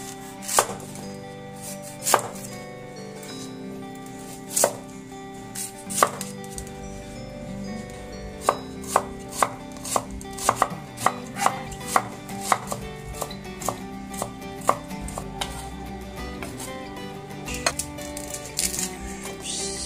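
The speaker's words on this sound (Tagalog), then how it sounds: "maghiwa muna tayo ng bawang at sibuyas" A knife chops garlic and onions on a board for kare-kare, giving a long run of sharp taps that start sparse and speed into a quick, steady rhythm, close and clear.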